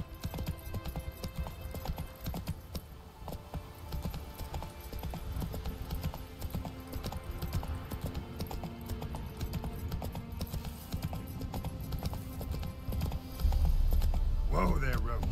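Roach, the horse in The Witcher 3, gallops in steady clip-clop hoofbeats with an occasional whinny, set against game music and a voice talking throughout.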